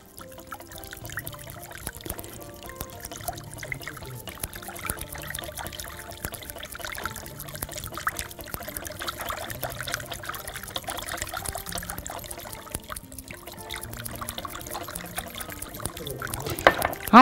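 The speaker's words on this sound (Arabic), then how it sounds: "نبتدي بقى ننزل دلوقتي بزيت الزيتون شوية شوية شوية شوية واحنا بنقلب عشان ما يفصلش مننا" Olive oil trickles slowly in a thin stream into a honey dressing for a beet and orange salad as it is stirred, a soft, steady pour over a musical background.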